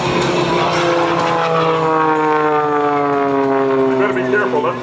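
A propeller-driven aerobatic airplane flies aileron rolls at the Wings Over Wayne 2017 airshow, its loud, steady engine drone sliding gradually in pitch throughout.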